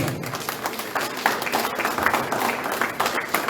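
A church congregation applauds during a sermon, a steady patter of many hands clapping at moderate loudness throughout, with a faint voice mixed in.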